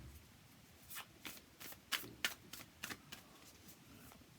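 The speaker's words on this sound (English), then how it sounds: "Let's have a look what they like to shuffle" Soft, papery tarot card shuffling in a string of quick riffling bursts, quiet and close with short pauses between them.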